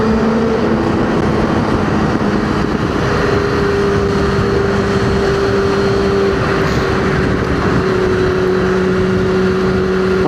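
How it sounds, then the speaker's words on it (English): A Yamaha R6 sport motorcycle cruising on the road with a slight stutter at cruising speed, giving a steady, continuous engine drone with a sustained pitch under constant road and wind rush, no talk. "My bike is starting to stutter a little bit at like cruising speeds."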